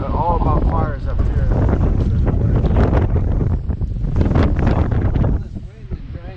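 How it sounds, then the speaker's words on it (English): Strong wind buffets the microphone at Brantley Lake, a loud continuous rushing roar with gusty surges throughout, easing slightly near the end, with people talking underneath. "All this wind and dryness."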